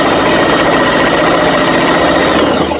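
A sewing machine stitching face mask fabric, a loud continuous mechanical whir with a steady fast vibrating rhythm, close and alone with no voices.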